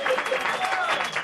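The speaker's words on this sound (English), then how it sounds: "Round of applause for Jason, everybody." A studio audience at the TV show Attack of the Show breaks into brisk applause, a dense wash of clapping with a voice heard over it.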